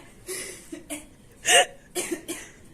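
A person with the flu coughs several times in short bursts, close to the microphone, with one sharp louder cough in the middle and quieter hacks around it.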